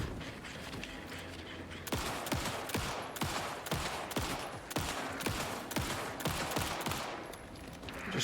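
Rapid bursts of gunfire in the video game Alan Wake 2, a dense run of loud sharp shots fired at an enemy from about two seconds on, with a steady background bed underneath and no talk.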